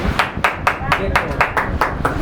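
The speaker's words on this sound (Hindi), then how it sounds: "ये इसका ताली देखो कैसे होता है बजाना" Hands clap in a quick, regular rhythm at a church Sunday meeting, about nine loud sharp claps close by, with voices talking and calling out over them.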